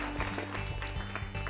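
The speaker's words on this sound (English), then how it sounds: "So let's clap for them." Audience clapping for a quiz team at a PCRA Saksham 2018 North Zone quiz show, a steady, moderately loud wash of applause with rhythmic claps throughout, no talking.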